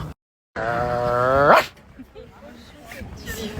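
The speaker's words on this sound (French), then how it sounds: "c'est qui ce monsieur qui m'aboie après?" A dog barks and growls in a long, loud, drawn-out outburst close by, with a snowy outdoor setting, then fades under light background noise.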